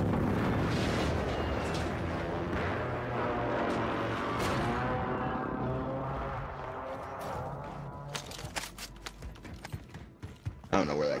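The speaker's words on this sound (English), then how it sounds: "Just got airstrike" Airstrike explosions in the battle royale game Warzone: a long, rumbling roar of blasts that slowly fades, followed by sharp, scattered impact cracks and debris near the end.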